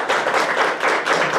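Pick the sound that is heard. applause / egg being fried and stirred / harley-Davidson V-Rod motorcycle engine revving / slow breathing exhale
applause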